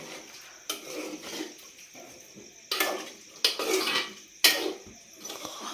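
Chicken curry being stirred in a pot, with a spoon scraping and clanking against the metal in a few sharp bursts between quieter stretches of stirring.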